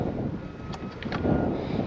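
Steady wind buffeting an outdoor microphone beside a BMW being worked on, a continuous low rumble with gusts and no talk over it.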